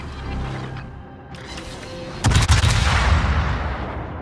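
Naval guns on the Saint-Louis cruiser fire shells in a warship video game: a sudden loud booming salvo hits midway, its rumble rolling on and fading slowly after quieter mechanical creaks and hum before it.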